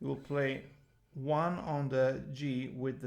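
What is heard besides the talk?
No everyday noise stands out behind the speech.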